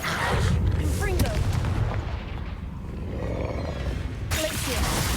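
A Confringo fire spell in Hogwarts Legacy bursts with loud, booming, roaring blasts amid combat, heavy and close, with a voice shouting between impacts.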